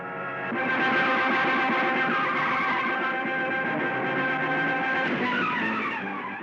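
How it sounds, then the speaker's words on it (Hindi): A car swings around with tires skidding and squealing, a loud continuous screech that holds steady for several seconds before easing off, with no voices over it. "सागर, तानिया, ड्राइवर, गाड़ी घुमाओ।"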